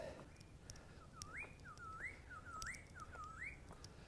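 A wild bird repeats a rising, whistled call several times in a steady rhythm, faint and distant in a quiet outdoor setting on a mountain hiking trail.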